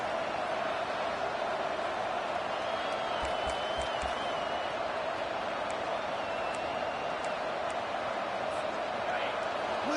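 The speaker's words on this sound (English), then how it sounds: "Listen to the crowd energy here in the early going" Crowd noise fills a college football stadium during an Oklahoma–Duke game, a steady loud roar with scattered whistles and shouts running the whole way through, heard from the broadcast booth.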